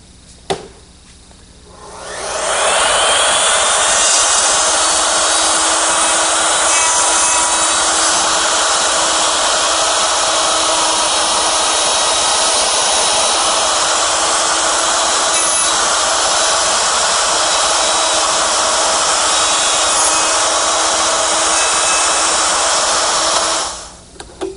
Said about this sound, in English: it works with my router, which is set up with a collar and a dovetailing bit